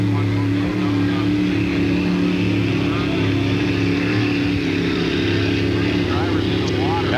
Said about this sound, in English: That's the Shady Lady boat moving down the front chute to the pit area.